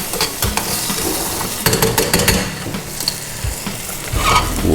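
Onion sizzling and frying in a hot pan, a steady loud crackle broken by scraping stirs of a utensil against the pan.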